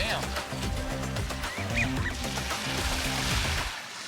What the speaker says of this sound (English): Look at those ducks out there.